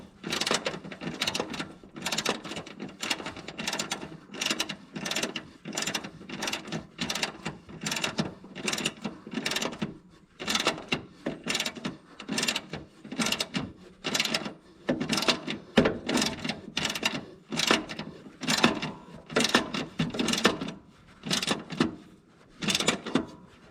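Repeated ratcheting turns tightening a part on a Kohler mower engine, a Cub Cadet zero-turn, close and loud, with rhythmic bursts of clicking separated by short pauses throughout.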